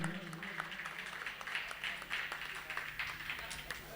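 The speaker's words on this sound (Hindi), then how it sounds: "तालियां बजाइए भैया, तालियां का समय बजाते रहिए" A crowd at a photographers' association foundation day event in Sasaram claps steadily. The applause is soft and distant, with voices and a low hum beneath it.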